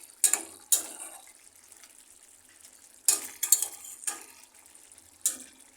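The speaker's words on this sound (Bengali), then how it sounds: "আবার একবার ঢাকনাটা তুলে একটু নাড়াচাড়া করে দিই, যাতে মাছগুলো নিচে না লাগে" Snakehead fish being stirred in a covered pan, with a few sharp utensil scrapes and clinks spaced irregularly over a quiet background, no talking.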